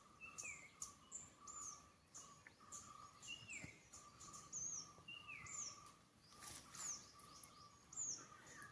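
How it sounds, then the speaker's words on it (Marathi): Doves call among other birds in a quiet Konkan forest, repeated soft calls mixed with higher chirps and whistles, all faint and distant over a low hum of insects. "जास्ती करून कवड्यांचेच आवाज येतात"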